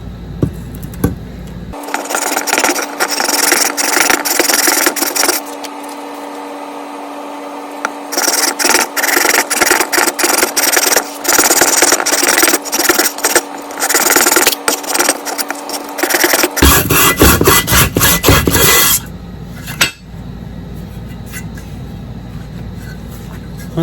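A part from a 1953 outboard motor being filed or sanded flat, bursts of harsh rasping strokes in a quick back-and-forth rhythm, pausing briefly between runs, close and loud.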